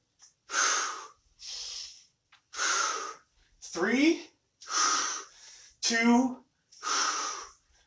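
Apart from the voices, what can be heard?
heavy breathing during a workout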